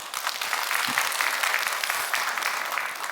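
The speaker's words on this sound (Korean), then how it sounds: "우리 목사님 사역 위해서 박수 한번 해줘요" A church congregation at a Friday revival service applauds for the pastor's ministry, a steady dense wash of many hands clapping that carries at an even level throughout, with no talk over it.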